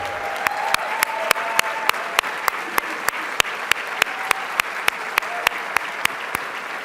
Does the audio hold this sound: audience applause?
yes